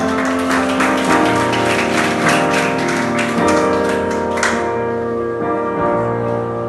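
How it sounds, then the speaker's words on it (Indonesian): A church congregation applauds during a testimony service, a dense patter of clapping layered over sustained organ-like music that thins out and stops partway through. "Boleh kita tepuk tangan?"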